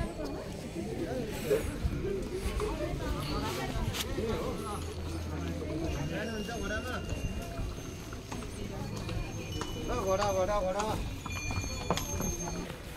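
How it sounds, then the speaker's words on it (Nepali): Horse hooves clop at a steady walking pace on a mountain trail in Mustang, Nepal, between Kagbeni and Muktinath, close and rhythmic, with people talking over them throughout. "अब घोडा पनि चढेर जान पाउने अरे"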